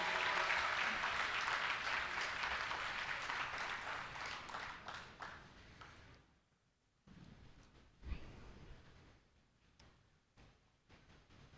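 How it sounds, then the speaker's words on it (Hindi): Audience applause for Sharma ji at a mushaira (Urdu poetry gathering), a dense crowd clapping that fades over about six seconds, leaving a quiet room with a few scattered claps and small noises. "एक बार ज़ोरदार तालियां शर्मा जी के लिए"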